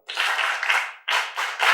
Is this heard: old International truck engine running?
no